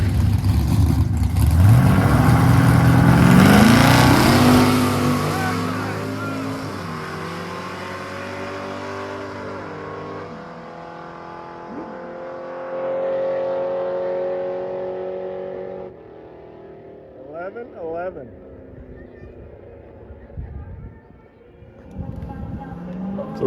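An old four-door 1956 Chevy launches on a quarter-mile drag pass. The loud engine roar climbs through rising revs, then recedes into the distance, and voices can be heard over it.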